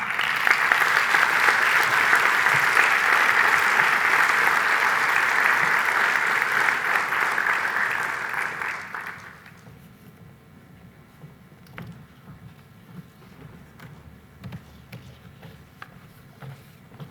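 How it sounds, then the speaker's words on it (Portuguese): Applause from an audience at the closing session of a conference, a loud, dense wash of clapping for about nine seconds that fades away into a quiet room with faint scattered noises. "Uma salva de palmas."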